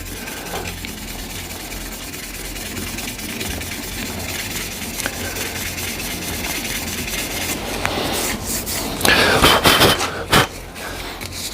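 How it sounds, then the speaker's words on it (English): A piece of African zebrano wood pen blank spinning on a lathe is sanded with the grain, giving a continuous close-up rubbing hiss that grows rougher and louder with scratchy bursts toward the end. "just sand with the grain now"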